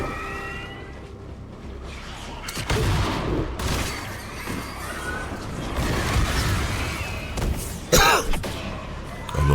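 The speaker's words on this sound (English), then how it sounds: "the good thing about the magic missile thing is I can be a bit inaccurate when I'm shooting" Magic missile shots fired in the VR shooter Armatus, heard as a series of sharp bursts and thuds over a busy game soundscape, with one loud blast near the end and intermittent rumbling between shots.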